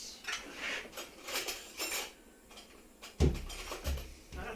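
Dishes, plates and cutlery clatter in a home kitchen during a live cooking session, a series of close knocks and scrapes with a sharper clunk of stacked plates near the end, no talking.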